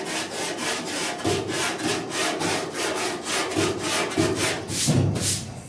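A sanding block works back and forth over body filler on the dash of a 1966 Ford F100, giving steady rhythmic rasping strokes, close and fairly loud, with no voices.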